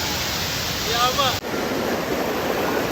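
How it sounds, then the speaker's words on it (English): Rushing water of a river waterfall at Dance River in Jamaica, a steady broadband roar throughout, with brief voices partway through. "That's some fucking river."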